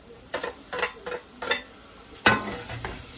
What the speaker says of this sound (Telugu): టమాటాలు వేసేస్తున్నాయి